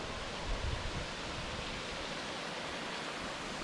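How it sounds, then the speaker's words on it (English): Waterfall along the Road to Hana in Hawaii, heard as a steady, broad rushing hiss that stays even throughout, with a faint low thump near the start. "Nice waterfall."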